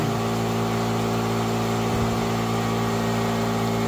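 An air compressor runs steadily in a workshop during model crane chassis assembly, a constant motor drone with strong low hum and no talk over it.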